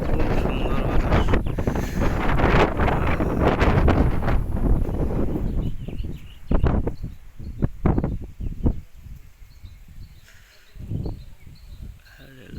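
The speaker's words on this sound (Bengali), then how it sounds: "বাতাস কি খুব সুন্দর বাতাস" Wind gusts across a rooftop, roaring and buffeting heavily for the first several seconds, then easing into intermittent gusts. A voice talks over it.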